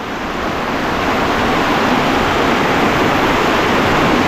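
Floodwater rushes and overflows from a drainage canal during a heavy downpour, a loud, steady roar of turbulent water that holds constant throughout with no voices.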